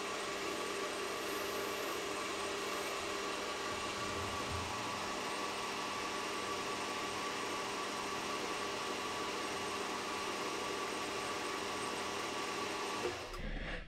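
A lathe cutter machines a V groove into a lawnmower pulley, giving a steady whining hum with a constant tone that holds for several seconds and cuts off abruptly at the end.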